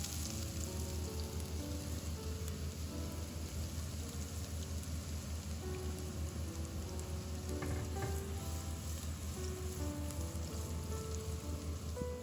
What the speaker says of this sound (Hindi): अब इसी पैन में हम ऐड करेंगे थोड़ा ऑयल और उसमें डालेंगे finally chopped ginger and garlic